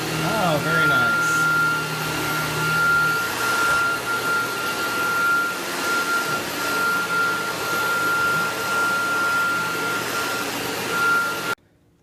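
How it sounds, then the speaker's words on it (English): A Dyson DC22 Motorhead vacuum cleaner runs steadily with a loud, constant motor whine and airflow roar, used around a home, before cutting off abruptly at the end. "I just gave the Dyson DC22 a quick test through my home"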